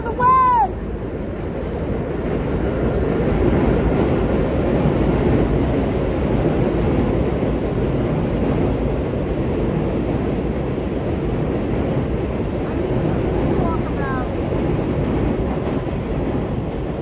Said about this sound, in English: the train's going the other way.